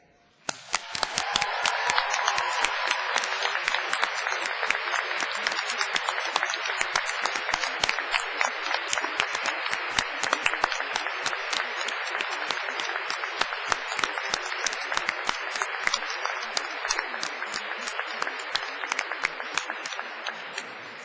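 Sustained applause from a university graduation ceremony audience, dense steady clapping filling the hall for about twenty seconds with no talking, starting abruptly and holding an even, loud level throughout.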